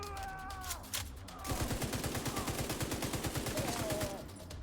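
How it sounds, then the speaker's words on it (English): Rapid machine gun fire in The Division 2 rattles in a fast, even stream of close shots lasting a few seconds, with a brief voice and short electronic tones before the burst. "oh my god, that is so hard to track with the MG."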